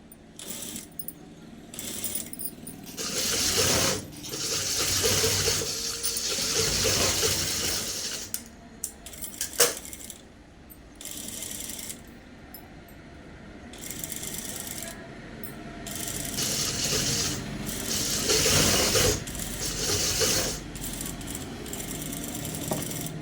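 A sewing machine runs in bursts while stitching a high-neck blouse, with its mechanical rattle stopping and starting between pauses where fabric is handled.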